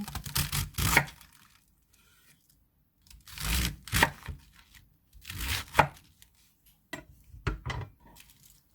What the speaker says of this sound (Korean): 고무배추 썰어줍니다